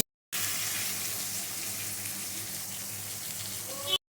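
Ground spice paste hits hot oil with a loud, steady broadband sizzle that starts abruptly and runs unbroken for several seconds, close and alone.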